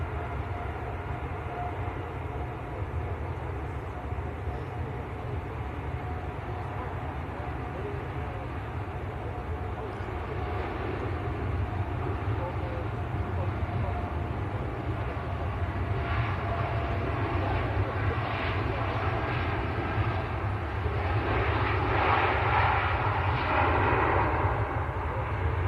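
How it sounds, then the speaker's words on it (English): A TUI airliner departs Manchester Airport bound for Barbados, its jet engines giving a steady, broad roar that swells gradually toward the end, heard from a distance with people talking faintly. "Here we go, TUI to Barbados."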